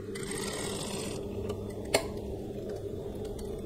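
A sewing machine stitching a seam on palazzo trousers hums steadily and quietly, then gives one sharp click partway through as the stitch is locked at the seam end, followed by a few faint ticks.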